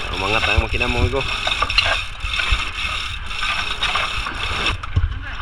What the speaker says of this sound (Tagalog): Ang ginamit ng chimblock mga amigo para maangat yung makina.